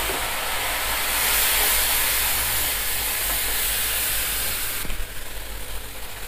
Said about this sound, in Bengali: পানি দিয়ে দেবো 1 কাপ পরিমাণ।